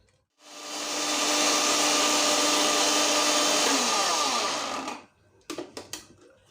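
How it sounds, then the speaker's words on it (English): A kitchen blender grinds cornflakes for a fried chicken coating, running loud and steady for about four and a half seconds at close range before winding down, followed by a few clattering knocks. "We are done blending the cornflakes."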